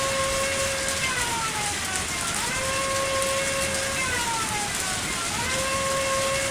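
Prison sirens wail as the main gate opens at midnight in the game Lucky Dog 1+ Bad Egg, a continuous rising and falling tone that repeats over a dense hiss of background noise.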